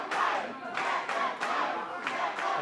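Live wrestling crowd shouting in rhythmic, repeated surges, a loud massed chant rising and falling about every half second with scattered cheers.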